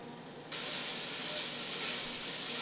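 Diced whole onion cooking over medium heat, starting with a quieter hiss that jumps abruptly into a loud, steady, steamy sizzle held close and continuous.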